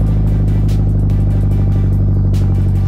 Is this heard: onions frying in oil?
no